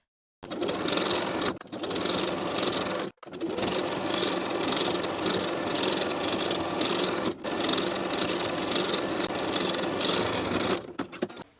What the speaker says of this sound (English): we'll sew close to the raw edge on the inside all the way around to complete the hems